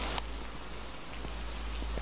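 Steady rain hisses in the horror game Phasmophobia, a dense even patter with a few sharper drops tapping close by, with no voices over it.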